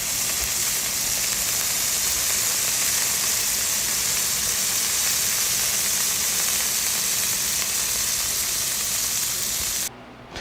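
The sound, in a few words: 8-ounce burger patties browning in a pan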